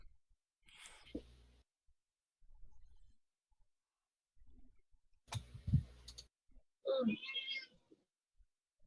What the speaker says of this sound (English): My cat is angry because I haven't fed her yet. She won't stop coming in here periodically and whining.